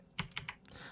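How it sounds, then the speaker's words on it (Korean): Quick burst of clicky keystrokes on a cheap mechanical keyboard with blue switches, a handful of sharp taps close by and fairly faint, with no talking. "그 싸구려 청축 키보드 두들기는 소리 좀 안 들려주시면 안 될까요?"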